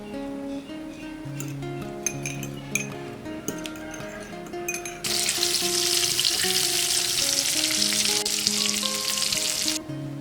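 Onions dipped in egg drop into hot oil and fry with a loud, steady sizzle, following a stretch of clinking utensils and dishes; no voices.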